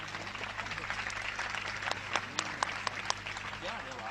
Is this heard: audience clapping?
yes